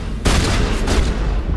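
Heavy blast of shotgun fire in the video game Mass Effect, a sudden loud boom followed by a dense rumbling roar of combat that sustains to the end.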